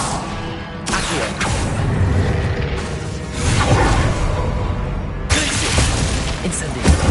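Spell effects from the video game Hogwarts Legacy, with whooshing bursts and rumbling impacts layered over a loud, busy game soundscape.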